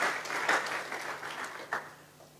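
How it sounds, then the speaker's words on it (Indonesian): Church congregation clapping at a worship service, a brief, fairly quiet burst of dense hand claps that swells and fades with one sharper flare near the end. "Beri tepuk tangan buat Tuhan Yesus."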